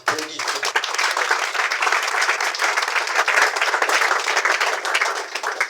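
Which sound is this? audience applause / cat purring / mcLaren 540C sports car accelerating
audience applause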